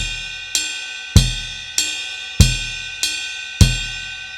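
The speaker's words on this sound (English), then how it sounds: "Okay, so that's the bell" A steady drum groove played on a ride cymbal bell, bright pinging strokes alternating with deeper kick drum thumps, each note ringing briefly.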